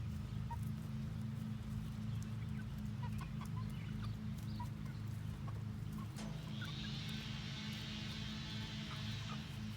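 Backyard chickens cluck in scattered soft bursts over a constant low hum, with a hissing wash of noise entering near the end, all fairly faint.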